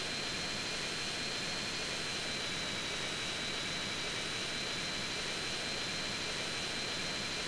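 A helicopter flies in GTA San Andreas, a steady broad engine and rotor roar with a thin high whine, holding constant and loud throughout with no voices.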